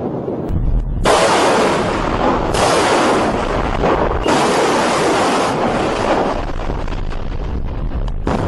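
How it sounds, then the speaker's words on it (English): Missiles and cannons fire at approaching ships in a sustained, loud roar of blasts and rumbling, with sharp surges that start abruptly and keep layering over a dense wall of noise. "Their missiles and cannons fire at the incoming Allied ships."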